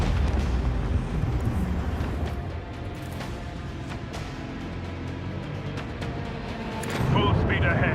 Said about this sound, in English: The macro cannons sing their deadly litany.